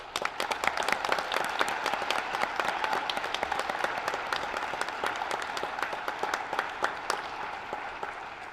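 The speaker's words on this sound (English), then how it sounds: "Please join me in welcoming them with a round of applause." School auditorium audience applauding new National Honor Society inductees at an induction ceremony, a steady, dense round of clapping lasting several seconds with no talk.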